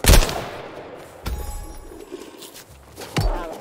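Gunshots ring out during a match of the survival video game Dread Hunger, with a sharp blast at the start and further loud reports spaced through the few seconds, over a rumbling game backdrop.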